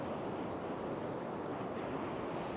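Ocean surf rolls along the Baja California coast in a broad, continuous wash of waves, mixed with wind rumble across the microphone and no voices.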